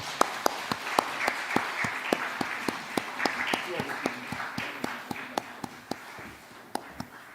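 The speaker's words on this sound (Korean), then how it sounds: "박수 한번 계속 한번 보내드리겠습니다" A church congregation claps in steady rhythmic unison, brisk even beats in a reverberant room, with a voice murmuring underneath.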